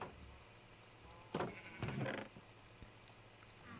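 Sheep bleating in the Minecraft video game, two or three short, quavering bleats in close succession.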